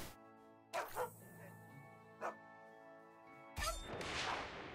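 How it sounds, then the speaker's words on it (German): A dog in the video game South Park: The Stick of Truth barks in several sharp, loud bursts spaced across the moment, followed by a crashing thud, over a steady game background. "Böser Hund."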